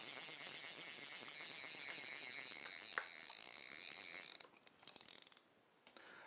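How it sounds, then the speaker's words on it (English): Fly line being wound onto a fly reel spool gives a steady close mechanical whir and ratcheting clicks, continuous for about four seconds, then stopping and starting in brief bursts before fading to quiet. "To roll on the fly line, we do it the same way as we did with the backing"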